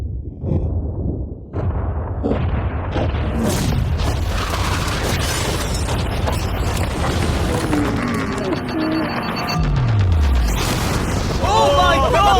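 A yacht is blown up with explosives, producing a sustained, loud booming roar of blast and rumble that runs throughout, with people shouting and reacting over it.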